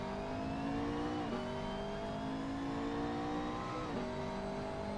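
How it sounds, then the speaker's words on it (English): A McLaren MP4-12C engine howls steadily at high revs around Spa in the Assetto Corsa racing sim. The pitch dips twice as it shifts up, with no voices over the continuous engine drone. "That is Spa in Assetto Corsa with the DK2, with the McLaren MP412C"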